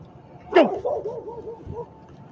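A dog gives one loud close bark followed by a short run of whining yips and whimpers, fading out over a quiet background.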